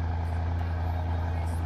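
A Ferrari sports car engine idles with a steady, deep, low rumble at a constant level, heard up close and alone.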